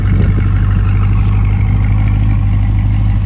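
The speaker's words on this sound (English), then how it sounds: "That exhaust sounds so good." A 2020 Chevrolet Corvette C8 idles with a steady, loud, low exhaust rumble that holds constant throughout, close by with no talking.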